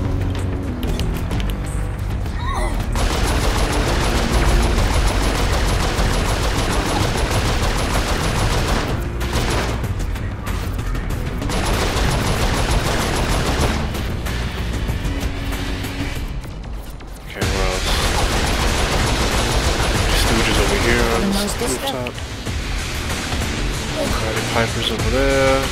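Gunfire aimed at the player in Saints Row 4, a dense, continuous barrage of shots and impacts layered with game music and effects, loud throughout with a brief dip near the middle, while a voice talks over it.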